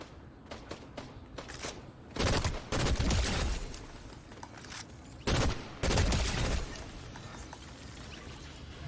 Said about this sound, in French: Par contre, il y a des tirs, ça c'est nickel.